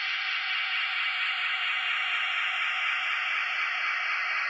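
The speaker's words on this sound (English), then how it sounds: "It contains a copy program and makes a horror movie-like sound." An Apple II copy program disk plays an eerie, horror-movie-style sound: a steady, loud hiss of noise with faint tones slowly gliding downward throughout.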